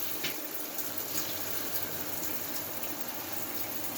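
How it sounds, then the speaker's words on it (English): Shower water runs in a steady, even hiss in a home in Alaska with a newly installed shower and filters due for changing; the spray is close and constant throughout with no voices. "And there's my shower running."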